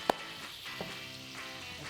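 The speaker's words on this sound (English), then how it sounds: "the chicken is frying" Soft, steady sizzling of frying food, with a couple of small pops early on.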